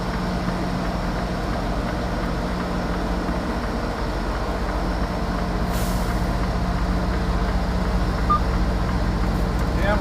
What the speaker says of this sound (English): Damn truck coming out of creep mode.